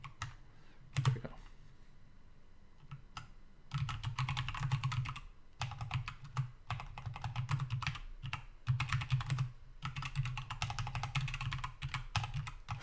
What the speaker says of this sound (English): Man, my typing is not good.